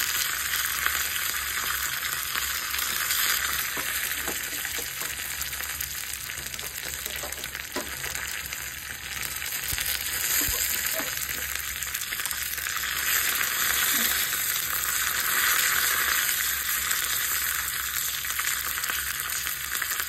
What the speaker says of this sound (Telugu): కరివేపాకు ఎండుమిర్చి ఇవి కూడా 2 వేసుకొని బాగా ఫ్రై అవ్వాలి